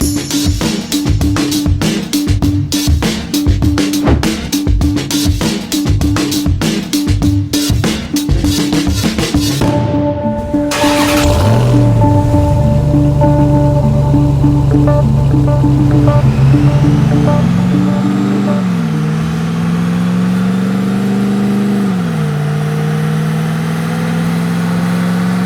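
A Dodge RAM TRX engine is revved on a dyno, first in rapid bursts, then as a loud sustained roar climbing in pitch through the gears.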